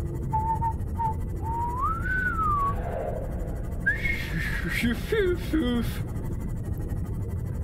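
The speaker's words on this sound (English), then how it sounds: "Whistle noises." Gliding electronic whistles in the game Subnautica rise and fall over a dense low background drone, with warbling tones and murmured voices mixed in.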